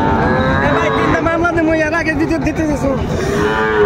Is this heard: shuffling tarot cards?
no